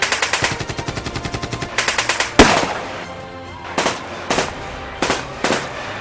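Gunfire in a battle scene: rapid automatic bursts crackle loudly in close rhythmic strings, broken by one heavy blast and then shorter spaced volleys.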